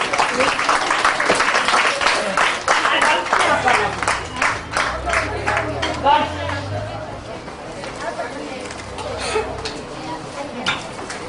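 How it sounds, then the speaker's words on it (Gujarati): A crowd at a Navratri festival claps in a loud burst that gradually thins out, while a voice speaks over the applause and background chatter. "વાહ, ખૂબ તાળીઓ પાડીશું"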